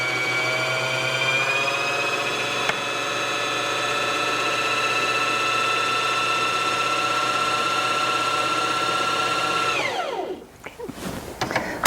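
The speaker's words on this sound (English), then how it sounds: "After you've wound a little bit of thread on here, you can simply cut that thread tail and continue winding." A Janome HD5000 sewing machine winds a bobbin with a steady, high motor whine for about ten seconds, then spins down and stops, followed by faint handling clicks.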